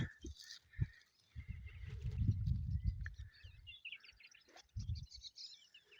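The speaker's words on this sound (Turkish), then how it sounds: "Çok güzel kuşlar ötüyor." Birds chirp and twitter in short, scattered calls in a grassy cemetery with pine trees in Turkey, moderately near, over soft low rustling and thumps; no one speaks.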